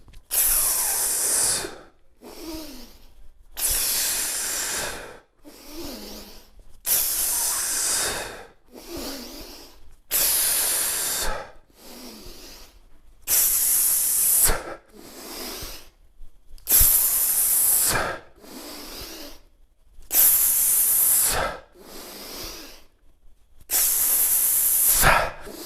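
A man breathes hard through a kettlebell set, sharp forceful exhales and inhales alternating in a steady rhythm with brief silent gaps, close and loud.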